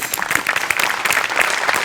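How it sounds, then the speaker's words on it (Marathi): An audience applauding on a stage show, a dense burst of loud clapping from many hands that carries through the clip. "मोठ्यांसाठी जोरदार टाळ्या"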